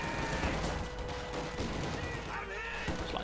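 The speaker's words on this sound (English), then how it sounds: "Rifle grenades going off." Battle din from the real-time strategy game Company of Heroes 2, with rifle grenades bursting and rifle and machine-gun fire crackling continuously. A commentator's voice is faintly present under the combat.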